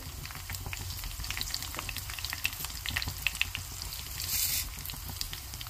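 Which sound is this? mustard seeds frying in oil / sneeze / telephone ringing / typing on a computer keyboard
mustard seeds frying in oil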